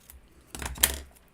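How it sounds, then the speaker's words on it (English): Washi tape being torn off a roll during paper crafting, a short scratchy ripping burst lasting about half a second, close and fairly quiet with no talking. "let's see what this washi tape, man, just keeps ripping."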